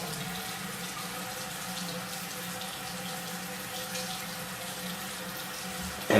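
Tap water pours in a steady, continuous rush as a shaved head and scalp are wet for shaving, close and even throughout.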